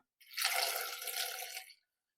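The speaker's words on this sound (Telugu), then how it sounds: "ఇవి మునిగేంత వరకు వాటర్ పోసుకుందాం." Water poured into a cooking pot over whole tomatoes, a steady splashing pour lasting a second and a half, close and clear with no talk.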